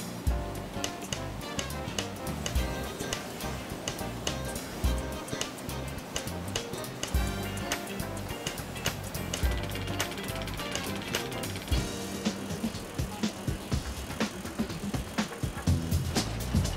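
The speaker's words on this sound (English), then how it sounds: "Bottles are gripped by the cap as the machine puts the labels on." A bottle labeling machine runs on a Coca-Cola plastic bottling line, its gears and ratcheting parts making a continuous dense clatter of rapid mechanical ticks and knocks, moderately distant, with no voices.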